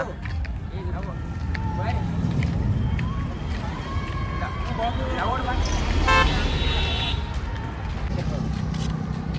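Vehicles roll past on a busy road during a pilgrimage walk toward a Yellamma temple, a constant rumble of engines and crowd noise with horns tooting several times, including a clear repeated honk near the middle, while people chatter throughout.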